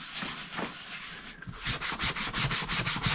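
A damp sponge scrubs the bodywork of a Fiat Coupé, working up foam, a close rhythmic rubbing and swishing that grows steadier and brisker in quick repeated strokes toward the end.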